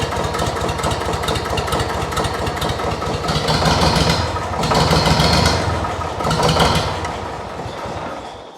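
An old Lamborghini engine cranks and catches, then settles into a loud, rough idle with a couple of revving swells before easing down.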